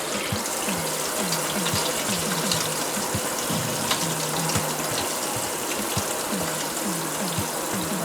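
Water running steadily from a kitchen tap over quinoa in a fine mesh strainer, a constant close gush with a faint rhythmic pulsing below, no talking.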